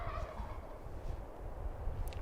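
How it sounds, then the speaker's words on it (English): Wild Merriam's turkeys gobble in a mountain setting, a rapid rattling gobble at moderate distance over steady outdoor background noise, with no talking. "The one's doing all the gobbling, the other one's just kind of going through the motions."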